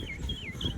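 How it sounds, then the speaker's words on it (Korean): A bird gives a few thin, rising and falling whistled chirps at a distance outdoors by the Khövsgöl lakeside in Mongolia, faint over a low background rumble. "새소리까지 들려주고 있다"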